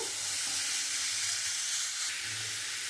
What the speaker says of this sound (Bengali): দিয়ে আমি মশলাটা দিয়ে খুব সুন্দর করে আমি একটু কষিয়ে নেব।